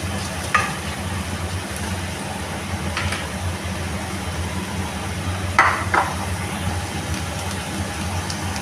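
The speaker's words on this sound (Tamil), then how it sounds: "இதை நல்லா வதக்கி விட்டுடலாம், ஒரு வாட்டி மிக்ஸ் பண்ணி விட்டுடலாம்" Chopped capsicum, cabbage and tomato sautéing in a pan, a steady close sizzle with occasional scraping stirs of a spatula, no voices.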